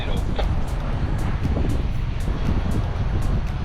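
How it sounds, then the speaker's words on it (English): Strong wind of about 19 knots funneling into a bay buffets a sailboat, a continuous loud rushing roar with gusty microphone buffeting and faint water wash beneath. "It's up to 19 knots of wind now."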